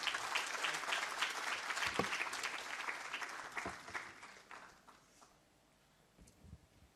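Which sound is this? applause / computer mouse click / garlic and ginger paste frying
applause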